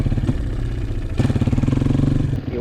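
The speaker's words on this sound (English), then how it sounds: "See, I went full throttle quickly and then backed off to like half or 3/4 throttle." A Honda CRF230 dirt bike engine opens to full throttle, then drops back to half or three-quarter throttle, a loud close rapid thumping exhaust with a rough surge as the throttle opens, no talk over it.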